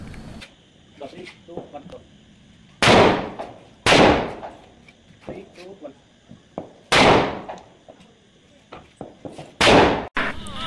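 Several sharp Diwali firecracker bangs burst at irregular intervals, loud and close, with people talking in between.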